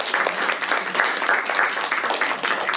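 An audience claps for a librarian narrator after a play, a dense, steady round of applause from many hands sustained throughout, moderately loud and close.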